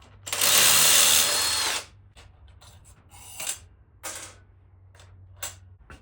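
Power tool, like an impact driver, spinning off a 14mm nut on the rear brake rod of a Honda CRF110 dirt bike: one loud sustained whir up close, followed by several short tool bursts and clicks.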